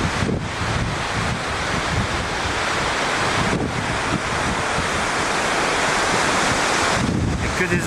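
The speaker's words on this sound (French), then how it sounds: "nous sommes venus voir des chutes d'eau avec des orgues basaltiques" Waterfalls pour over basalt columns in Iceland, a loud, dense, unbroken roar of falling water mixed with heavy wind buffeting the microphone outdoors.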